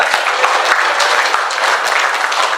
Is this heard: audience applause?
yes